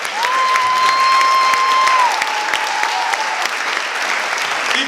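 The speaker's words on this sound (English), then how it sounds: "Keep it going for Drew Farrow, everybody" An audience at a stand-up comedy show applauds in a dense, sustained patter of clapping with a faint whistle rising above it, fading slightly toward the end.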